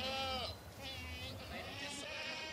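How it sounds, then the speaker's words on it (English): A young Saanen goat kid gives thin wavering bleats at a goat farm, with other soft bleats and background noise around it. "This is a little Saanen kid, and these are all first-time mums as well."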